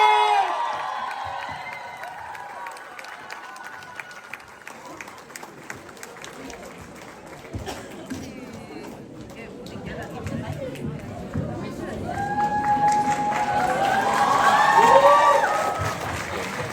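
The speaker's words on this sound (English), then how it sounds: "everybody, big round of applause once again for Chairman Hitesh Chaudhary and MC Mary Kh" Crowd applause and cheering at a community night event, building gradually from scattered clapping under chatter to a louder swell near the end, with a few voices heard over it.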